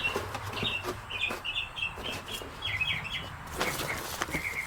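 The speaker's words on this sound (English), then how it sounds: "You can hear the birds chirping out in the background." Small birds chirp and tweet in short repeated calls, somewhat distant, over a steady outdoor background hum.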